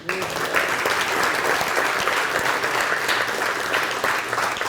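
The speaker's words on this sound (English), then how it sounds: "How about a round of applause for Bill Naeger and his photo work?" Audience applause at a museum lecture series honoring a photographer, a dense steady patter of many hands clapping at full volume from start to finish, with faint voices showing through.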